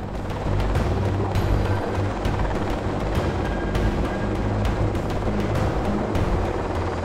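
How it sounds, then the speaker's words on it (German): A federal police helicopter hovers near a rock face, its rotor downwash roaring as a loud, continuous broadband rush of turbulent air with a steady rotor thrum underneath. "Fiesen Luftverwirbelungen unter dem Hubschrauber."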